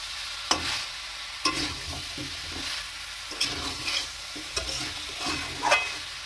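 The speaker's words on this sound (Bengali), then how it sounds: "এটাকে ভালো করে ভেজে ভালো করে কিছুক্ষণ কষে নেব পেঁয়াজ আর পেঁপে দিয়ে" Chicken frying with onion and papaya, stirred in a pan, with a low hiss of frying under irregular spatula scrapes and knocks, close and moderately loud, with no voices.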